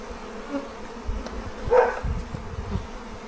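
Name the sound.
bee buzzing near the Flow Hive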